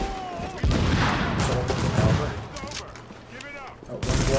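Gunfire in the video game The Division during a Times Square legendary mission, a sustained loud stretch of shooting and blasts that thins out briefly before picking up again at the end.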